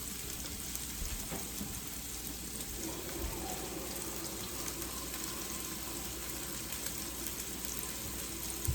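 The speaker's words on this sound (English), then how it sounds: "you take the can and you're going to fill it up with water all the way up to this inside line right here" A can filled with water from a tap, a steady broadband rush and splash lasting throughout, moderately loud and continuous with no speech.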